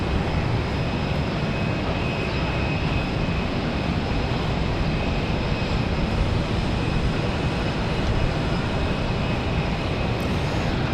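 An airplane rolls along the runway at Raleigh-Durham airport in windy weather, its engines a steady, broad roar heard at moderate distance for the whole stretch, with no talk.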